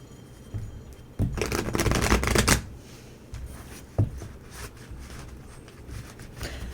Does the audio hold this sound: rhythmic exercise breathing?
no